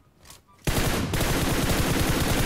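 Sustained automatic gunfire from shooting a bot in PUBG Mobile, a rapid, loud, close burst that starts abruptly after a faint lead-in and rattles on steadily.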